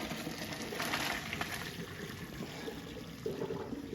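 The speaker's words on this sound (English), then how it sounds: "Okay, we're gonna strain our pasta." Cooked pasta draining in a strainer, water pouring and trickling away in a steady soft wash with small splashes, quiet and close, no talk.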